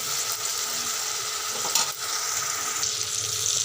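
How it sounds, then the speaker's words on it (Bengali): Onion frying in a pan for a Bengali fish paturi dish gives a steady, close hiss and sizzle with a few soft stirring scrapes, no voices. "পেঁয়াজটা আমার মোটামুটি ভাজা হয়েই এসছে।"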